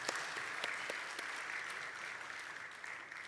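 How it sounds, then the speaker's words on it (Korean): A church congregation claps together at a Sunday afternoon service marking the church's founding anniversary: dense, steady applause that holds close and loud throughout, with no talking over it. "우리 하나님께 영광의 박수 올려드립시다."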